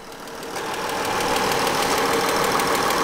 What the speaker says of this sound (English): It does got a little tap or a little ticking sound going on under here.